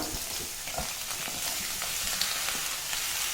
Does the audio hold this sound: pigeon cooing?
no